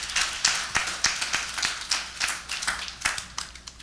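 Sparse clapping from a small group, irregular claps rising and falling in bursts, no voices.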